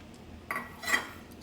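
A spoon scrapes and clinks against a pan while milk is stirred for fruit salad, two soft close metallic strokes in a quiet kitchen.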